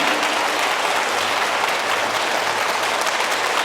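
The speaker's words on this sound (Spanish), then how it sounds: "Dale otro aplauso al Señor." Church congregation applauding during a sermon, a thick, unbroken roar of many hands clapping together that fills the room and stays loud and even from start to finish.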